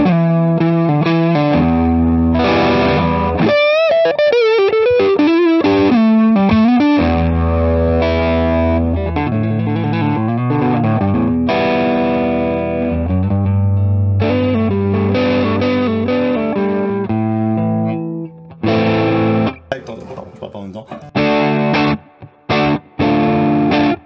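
An electric guitar plays through a Kernom Ridge overdrive pedal with clipping, gritty and saturated, with chords and single notes ringing loud and close, ending in choppy stabs.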